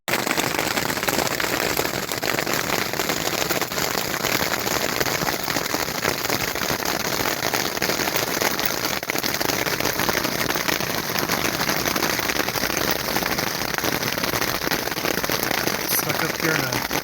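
Dense, steady rain falling on a mountain campsite near Meysan Lake, a continuous close hiss and patter that holds at an even level for the whole stretch without letting up.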